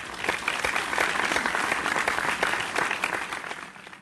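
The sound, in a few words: audience applause for Edward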